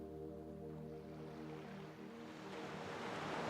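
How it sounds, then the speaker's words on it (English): Gentle sea waves wash softly along a beach of white and golden sand in the Gili Islands, a steady low surf hiss that swells slightly toward the end, with a faint tonal hum running underneath. "On your right is the sea, the waves gently rocking."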